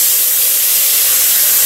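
Tomato tipped into a hot pan of rice for red rice with octopus, giving a loud, steady, bright sizzling hiss that stays even throughout, with no talking over it.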